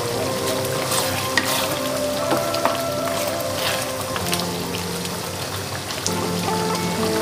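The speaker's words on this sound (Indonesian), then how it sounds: "saya akan biarkan ianya merenek lagi ya" Turut dish cooking in a pan for Gawai, a steady close sizzle and bubbling simmer with faint stirring and scraping, continuous throughout with no voices.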